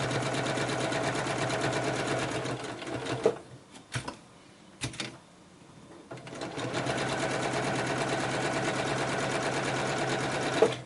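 A sewing machine stitches quilt block pieces in a fast, steady whirring chatter, pauses briefly with a few clicks and handling noises, then resumes its continuous close stitching.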